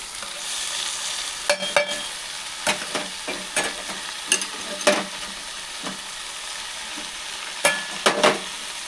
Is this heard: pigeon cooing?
no